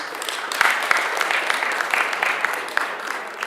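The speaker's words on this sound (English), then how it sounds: "really a big applause for Merck" An audience at a pan-African launch event for Merck applauds in a steady, dense burst of clapping that carries through the whole stretch at even strength.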